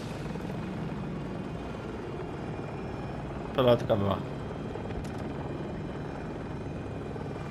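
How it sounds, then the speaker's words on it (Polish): An enemy helicopter in the Battlefield 2042 video game: a steady, distant rotor drone runs throughout, with a player speaking briefly over it midway. "Jest helka jakaś. Kontakt! Śmigłowiec wroga!"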